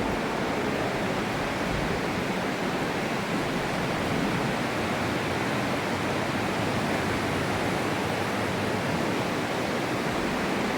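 The river rushes through the narrow rock walls of the Aare Gorge in Switzerland, a dense, steady roar of flowing water that fills the whole stretch without voices.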